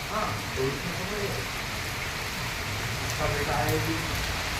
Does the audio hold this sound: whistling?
no